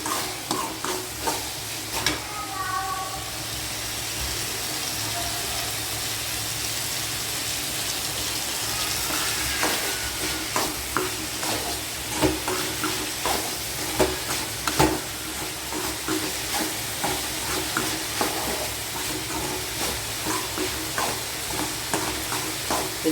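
Young snake gourd fries in oil with a steady, bright sizzle throughout, broken by frequent scraping and clinking as a utensil stirs the pan in quick, repeated strokes.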